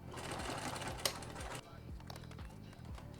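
A sewing machine stitches back and forth on tactical gear, a rapid mechanical whirring run that stops, followed by slower separate clicks and thumps, fairly faint.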